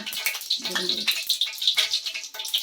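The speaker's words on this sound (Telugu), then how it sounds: "వాటర్ వేస్తున్నానండి" Water poured into a pan of dried fish frying in hot oil for a drumstick fish curry sets off an uneven hiss and sputter, fairly faint, with a voice briefly heard.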